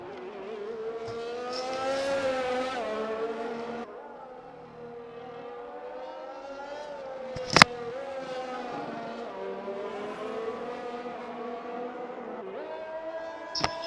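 A McLaren Formula 1 car on an out lap in a racing video game. The engine whines in a steady rising and falling pitch through gear changes, with a short sharp click near the middle and another at the end.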